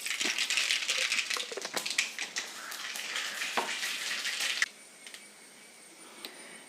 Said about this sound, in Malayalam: കടുക് നന്നായിട്ട് പൊട്ടി